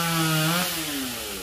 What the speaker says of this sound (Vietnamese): Anh Tùng cưa nhánh này tới 3 tầng rồi các bạn